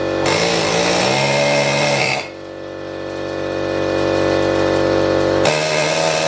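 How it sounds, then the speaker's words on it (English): An air hammer drives bearings into an HJ47 wheel hub, a loud continuous rattling buzz with a brief dip in the middle before it picks up hard again, close up with no talk. "you can get yourself one of these little air hammers, sit that on there and just hammer it in like that."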